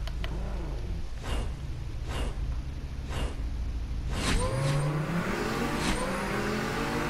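A car engine revs in the racing game Super Street: The Game, a steady loud drone with repeated throttle swells, then a rising, whining acceleration toward the end.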